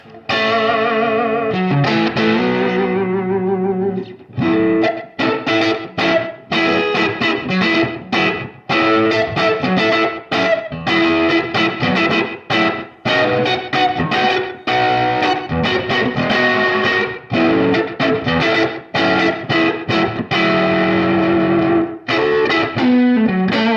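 Guitar played through a vintage Maestro Echoplex EP-3 tape echo set to a light slapback, loud driven chords and picked phrases repeated by short echoes, continuous with brief pauses between strums.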